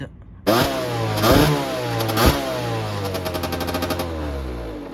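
Beta Factory 70 Barikit motorcycle engine: after a short quiet lead-in it starts and revs in sharp blips, then settles into a rapid, steady popping two-stroke idle, loud and close.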